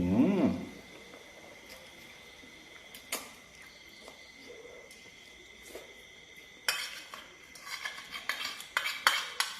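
Duck larb and pork pieces being plated onto a dish, with close cutlery and dish clinks scattered through, a brief burst at the start and a busier run of clattering scrapes toward the end.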